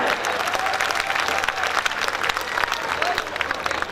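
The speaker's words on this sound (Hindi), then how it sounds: "एक बार ताली बजाकर बताएं।" A crowd applauds with dense, steady clapping that fills the whole stretch, with some voices mixed in beneath, at a Hindi comic poetry gathering.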